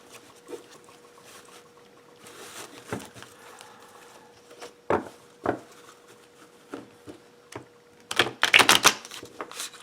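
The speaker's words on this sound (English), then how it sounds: "let's see about riffle shuffling" Tarot of the Golden Wheel cards being riffle shuffled, with scattered soft ticks and flicks building to a dense, loud burst of rapid card patter near the end, close to the microphone with no talk.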